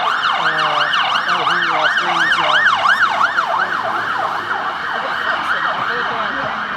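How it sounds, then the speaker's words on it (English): A wailing emergency vehicle siren rises and falls in steady, rapid cycles, loud and close, over a low rumble of traffic outside Sydney Town Hall. "I'm just waiting for the siren to stop."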